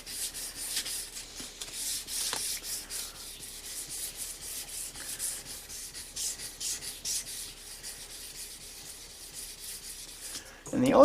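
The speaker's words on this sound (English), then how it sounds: "sanding the micarta with this grit is for the benefit of the pins in this thong hole" Steady, soft rasping of fine sandpaper rubbed back and forth by hand on the micarta handle of a fillet knife, close up, with a brief louder knock right at the end.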